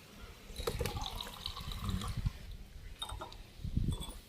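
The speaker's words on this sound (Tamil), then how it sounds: "அந்த லெவலுக்கு ஊற்று பாப்போம்" Liquid is poured into a container during a pouring game, with uneven splashing and gurgling close by that rises and falls in bursts. There is no clear speech.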